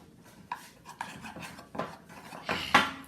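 Flour and ghee cake batter mixed in a bowl, a run of scraping, rubbing strokes with utensil clatter that gets louder toward the end, close up, without speech.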